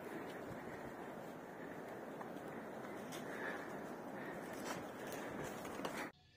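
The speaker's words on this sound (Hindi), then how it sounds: "जैसा आप नीचे देख पा रहे हैं नदी बहती हुई, इस नदी का नाम है पार्वती रिवर" Continuous rushing water of the Parvati River flowing below a bridge in Himachal Pradesh, a dense steady roar heard from above with some wind buffeting the microphone, cutting off abruptly at the end.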